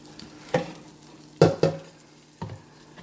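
Curry-coated chicken wings sizzle in a hot pan, with several distinct stirring and turning clatters over a steady frying hiss, close and fairly loud, no voices.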